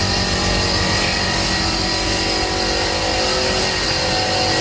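Compressor of a flash dryer machine at a wood pellet factory running continuously, a loud steady mechanical roar with constant hum and broadband noise, no talk.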